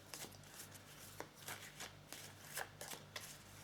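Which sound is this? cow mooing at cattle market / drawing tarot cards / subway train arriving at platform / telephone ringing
drawing tarot cards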